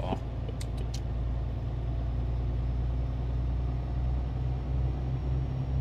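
A truck engine in Euro Truck Simulator 2, a steady low diesel rumble droning evenly with a faint click near the start, no change in pitch.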